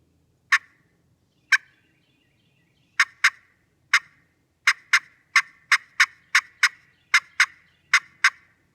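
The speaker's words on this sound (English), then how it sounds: "I like to start a cluck or cutting right about where the 2 tone rings meet." Turkey pot call worked with a striker, producing sharp, clean clucks and cutting: a few spaced single notes, then a rapid irregular run of about a dozen crisp yelps, close and fairly loud with no talking.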